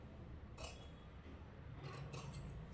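Tailoring scissors cut through a single layer of fabric for a front piece, making a few short, crisp snips: one near the start and a quick cluster later, over a quiet room.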